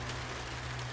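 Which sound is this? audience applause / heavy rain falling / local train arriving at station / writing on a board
heavy rain falling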